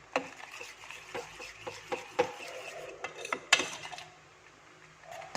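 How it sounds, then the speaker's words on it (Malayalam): A spoon scrapes and knocks against a pot while jackfruit pachadi is mashed and mixed, giving irregular clinks and scrapes with short quiet gaps between strokes, close and fairly soft. "പച്ചടിക്ക് ഇതെല്ലാം കൂടി നന്നായിട്ട് അങ്ങ് ഉടച്ച് യോജിപ്പിക്കണം"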